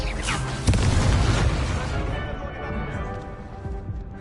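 The Confringo explosion spell in Hogwarts Legacy lands with one sharp, loud blast, followed by several seconds of crackling, rumbling decay.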